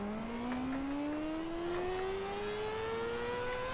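A car engine revving in the racing game Forza Horizon 4, a smooth rising whine that climbs steadily in pitch as the revs build, loud and continuous with no one speaking.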